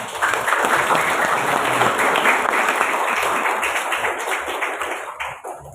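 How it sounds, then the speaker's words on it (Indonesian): A group of children claps steadily for several seconds, dense and close at first, then thinning slightly toward the end. "Oke, tepuk tangan."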